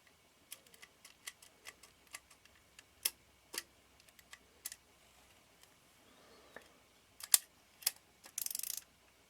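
A Nikon F shutter with a faulty one-second slow-speed gear, released after cocking: a run of quiet, close mechanical ticks and clicks in an uneven rhythm, ending in a brief buzzing whir and louder clicks.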